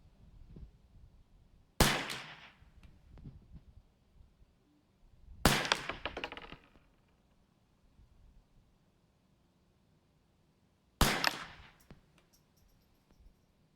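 A Ruger 10/22 rifle fires three sharp single shots spaced several seconds apart, each crack followed by a short ringing decay outdoors, with quiet background between.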